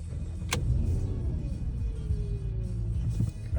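A Porsche Cayenne with a cranking issue turning over and catching, with a sharp click and then a low steady engine rumble and a faint whine close by, no talk.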